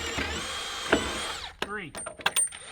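A cordless drill with a new bit drives screws while post-frame cabin walls are framed, a whirring run that winds down midway, followed by short ratcheting bursts and brief spins close by.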